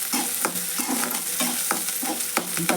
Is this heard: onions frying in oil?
yes